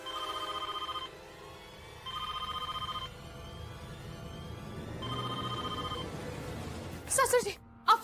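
A telephone rings in repeated one-second bursts with pauses between them, at a moderate level over a room background. Brief clattering and voices follow near the end.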